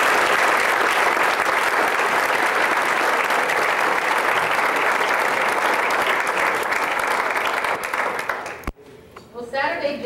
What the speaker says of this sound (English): I'd like you to give them a round of applause.